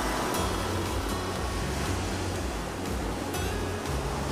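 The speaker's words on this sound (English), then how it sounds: "Have another wave coming in, not very big waves." Small ocean waves roll in at sunrise, a steady broad wash of surf with soft low rumbling swells and no voices, heard close and continuous.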